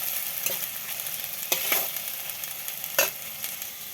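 Garlic and ginger paste frying in a pan, a steady soft hiss with a few sharper scrapes of a spatula at intervals, close and on its own.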